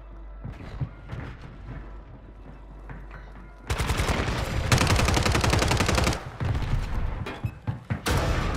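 Call of Duty gunfire on Rebirth Island: after a few quieter distant shots, a loud, close burst of rapid automatic fire rattles for a couple of seconds, then further bursts follow.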